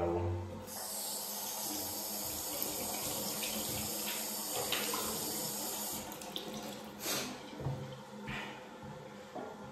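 Water pours steadily into a toilet tank during a toilet repair, a continuous close hiss and rush that runs without a break, with a few faint knocks and splashes over it.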